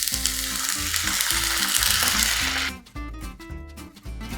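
Chopped bottle gourd cooks in a covered pan with a little water, giving a steady, fairly loud sizzle and bubbling hiss that runs throughout, with faint clinks and a brief dip near the end.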